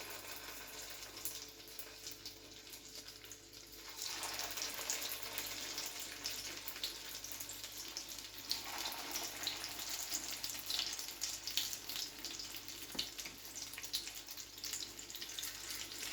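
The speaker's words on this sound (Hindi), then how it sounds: "अब करते हैं फ्राई। ऑयल हमारा गर्म हो चुका है।" Chicken shami kebabs go into hot oil. A soft hiss swells into a steady, bright sizzle after a few seconds and keeps going, close and unbroken, with no voices.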